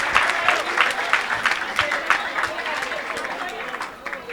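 A church congregation at a Benin and Togo revival service applauds loudly, with dense sustained clapping and some cheering under a voice speaking over the crowd.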